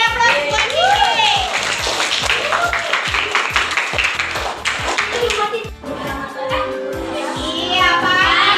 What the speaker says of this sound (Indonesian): beri aplaus buat Kiki.